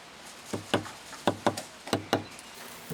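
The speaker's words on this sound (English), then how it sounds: "then we can knock in the remaining 3 red plugs" Red plugs are knocked into an outdoor electrical socket box during installation: six sharp, close knocks in uneven pairs, then a faint final tap.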